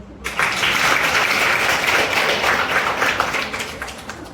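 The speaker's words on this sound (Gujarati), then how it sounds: "આ છોકરી માટે તાળી પાડો" A crowd claps for a girl at a World Disability Day gathering, dense, loud applause starting abruptly and continuing evenly for a few seconds.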